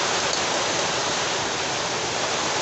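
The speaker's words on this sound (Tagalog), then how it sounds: "Lakas ng ulan, no?" Heavy rain pours down outside a home during flooding, a dense, even roar of drops that never lets up, with no voices.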